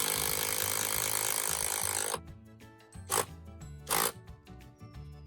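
Power driver sinking a GRK screw through an awning bracket into a wall, a steady loud whine for two seconds, then two short bursts of driving, close and without speech.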